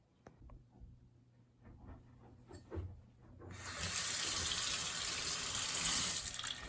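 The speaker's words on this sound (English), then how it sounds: "we're gonna go rinse this off so you guys can see how it looks once the paint is washed off" Tap water runs into a sink to rinse paint off a laser-engraved pint glass, starting after a few seconds of quieter handling clatter and then holding as a loud, steady close-up gush.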